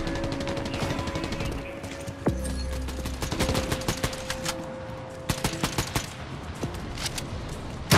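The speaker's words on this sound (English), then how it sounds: "what do you think of the new shotgun with the skeleton bones coming off it?" A shotgun firing in a Transformers shooter game, sharp close blasts repeating in quick irregular succession alongside other weapon fire, loud and busy with no talk.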